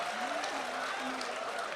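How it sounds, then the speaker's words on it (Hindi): Audience applause at a Hindi poetry recital, a steady continuous wash of many hands clapping, with a faint tonal voice or reverb line running underneath. "बस आप तालियां बजाते रहिएगा।"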